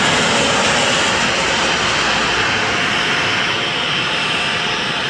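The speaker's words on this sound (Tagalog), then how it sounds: "Ayan, lilipad na yung Cebu Pacific." Loud, steady roar of a Cebu Pacific airliner's jet engines during takeoff, a dense broadband rush holding nearly constant for about five seconds with no talk over it.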